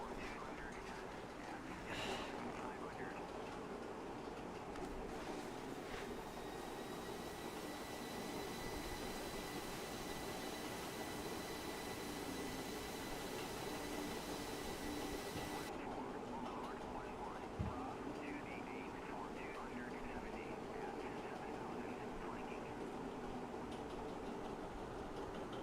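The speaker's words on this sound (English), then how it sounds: "My aircraft is rolling down the runway." An F-14 Tomcat in a flight video game rolls down the runway, its jet engine a steady loud roar with a constant whine, continuous throughout and broken only by a single brief thump.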